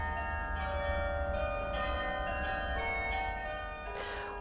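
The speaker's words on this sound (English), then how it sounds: "Instead of pipes, bells sound out of the bell tower when the keys are pressed" Carillon bells ring out from the war memorial bell tower, several sustained, overlapping tones hanging in the air with a steady low hum beneath, moderately loud and continuous, without talk.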